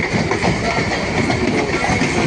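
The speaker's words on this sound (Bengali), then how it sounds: "আমি ট্রেনটা চেপে গেছি বাড়াইপুর লোকাল" A Baruipur local commuter train runs out from Ballygunge toward Dhakuria, heard from on board as a loud, steady rumble with rhythmic rail clatter and a continuous high whine.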